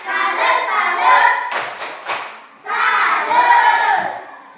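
Voices in a classroom chant in rhythm, broken by a few sharp bursts of group clapping in the middle, then the chanting resumes.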